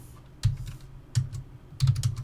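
Keys clattering on a computer keyboard, three short bursts of quick clicks with quiet pauses between, close and clear with no voices.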